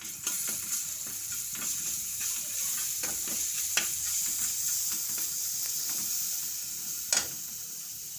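Cumin seeds and asafoetida sizzling in hot oil in a pan, a steady close hiss of frying with occasional sharper crackles and the scrape of stirring.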